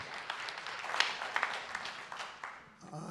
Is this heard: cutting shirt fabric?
no